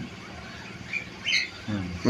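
A teddy pigeon in a dim indoor loft of high-flying birds gives a few brief, faint calls over steady low background noise, with a soft louder burst near the end.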